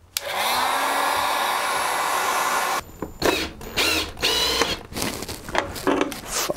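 Heat gun warming plastic parts of a homemade rideable electric speed boat, a steady loud blowing roar for about three seconds, then stopping into intermittent handling noises and bursts as the parts are pressed together.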